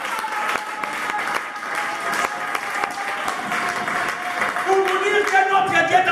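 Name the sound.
congregation applauding, acclaiming the Lord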